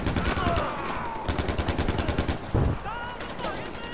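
Gunfire in the Far Cry 4 video game: close, loud bursts of automatic fire crackle in rapid rhythmic volleys, pausing briefly and then resuming through the whole stretch over a dense background of game sound.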